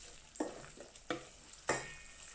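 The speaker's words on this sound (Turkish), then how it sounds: "Şöyle iyice kavrulana kadar, salçanın kokusu çıkana kadar kavurmamız yeterli olacak." Tomato paste being stirred and sautéed in a hot pan for sulu köfte, a soft steady sizzle broken by three scraping strokes of the spoon.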